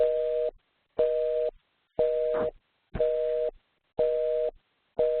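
A telephone busy signal repeats six times, each steady two-tone beep lasting about half a second and separated by equal silences, clear and even, alone.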